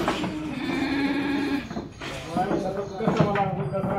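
Katewadi goats at a livestock sale bleating in repeated wavering calls, close and fairly loud, with people talking throughout.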